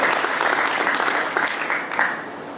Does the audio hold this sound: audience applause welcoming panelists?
yes